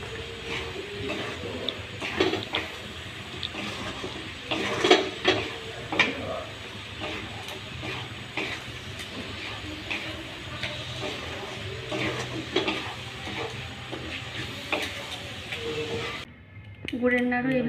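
A jaggery naru mixture is stirred and worked in a pan, giving a continuous hissy scraping with repeated soft knocks of the utensil, under a voice talking.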